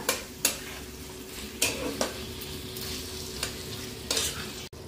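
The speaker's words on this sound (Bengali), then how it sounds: "এবার চিকেনটাকে পেঁয়াজ আদা রসুনের সঙ্গে একটু মিশিয়ে নিলাম।" Small chicken pieces stirred with onion, ginger and garlic in a pan give a steady sizzle, broken by several scraping strokes of a spatula against the metal, close and alone.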